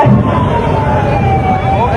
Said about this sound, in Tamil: கொஞ்சம் ஆம்புலன்ஸ் போட்டும்.